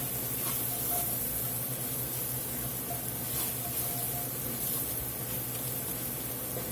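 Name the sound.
green beans with tomato paste cooking in pan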